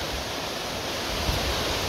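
A river runs beside a forest path near waterfalls, a dense, steady rushing roar close to the microphone with no pauses and no talk.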